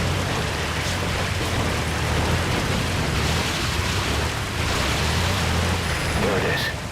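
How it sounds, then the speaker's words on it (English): Steady rain pours down in Metal Gear Solid in a continuous broadband hiss, with a low rumble underneath and a brief chime near the end. "Sound of rainfall should help to mask your footsteps."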